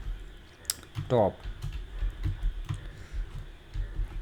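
Someone types a ChatGPT prompt on a computer keyboard, with a scatter of soft, close key taps and clicks while a person speaks quietly over them.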